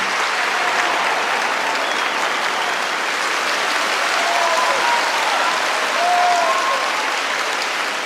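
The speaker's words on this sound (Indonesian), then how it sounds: "mereka mendapat tepuk tangan yang meriah" Sustained audience applause after a piano competition performance in an anime, a dense steady clapping crowd filling the whole stretch at even loudness.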